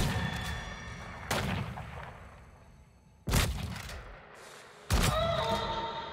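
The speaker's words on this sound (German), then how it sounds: "Ich nehme mal doch das Gewehr" Three sharp, loud rifle shots in the video game Weird West, spaced a couple of seconds apart, each with a booming echo that fades, over a low background rumble.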